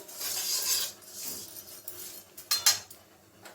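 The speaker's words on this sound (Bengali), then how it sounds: "নুনটা দিয়ে দিলাম, একটু নেড়ে নেব।" Pulao rice gets stirred in a pot after salt goes in, with soft gritty scraping and rubbing of a spoon through the grains, close and fairly quiet, plus a couple of brighter scrapes near the end.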